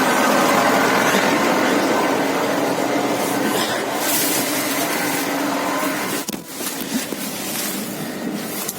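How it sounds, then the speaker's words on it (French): Large farm tractor engine running steadily close by, a loud continuous diesel drone with a brief dip and some clatter near the end, no talking. "je vais sûrement prendre le plus gros tracteur de la ferme"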